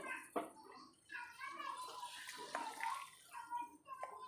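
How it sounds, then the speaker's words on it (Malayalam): Water is poured into a pot of tomato curry back on the stove, a faint splashing trickle running steadily for a few seconds with soft clinks. "കുറച്ച് വെള്ളം ഒഴിച്ച് കൊടുക്കാം നമുക്ക്"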